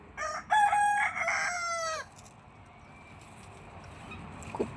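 A rooster crows loudly and close at the start, one long harmonic call lasting about a second and a half, followed by a quiet backyard with faint distant bird sounds and a soft cluck near the end.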